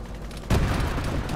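Autocannon fire in a military shooter game, a sudden heavy boom that starts partway in and leaves a loud, rumbling blast with lingering reverberation coming from off to the left.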